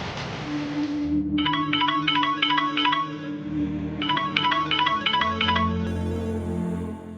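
A phone ringtone plays two bursts of rapid electronic chirping, separated by a brief pause, over a low background hum.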